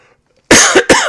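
A loud, close cough in two quick bursts breaks the silence, the second following right after the first.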